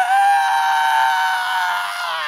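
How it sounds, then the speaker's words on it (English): A long, piercing, blood-chilling scream imagined for a speculative hippo relative sounds loud and close, one sustained harsh cry that holds steady and fades slightly toward the end, with no other sound around it. "Their awful, teeth-shattering, blood-chilling scream."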